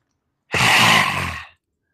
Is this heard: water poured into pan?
no